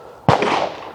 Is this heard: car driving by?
no